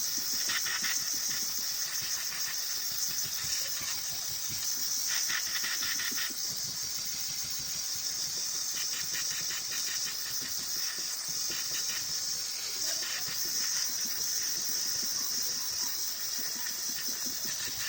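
An AliExpress steam cleaning machine runs continuously for the whole stretch, giving a steady high hiss over a faint engine-like hum, with slight pulsing swells and no voices.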